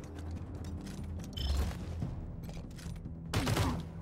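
Gunshots in the turn-based game Wasteland 3: a couple of sharp shot bursts, one around the middle and a louder one near the end, over low rumbling background noise.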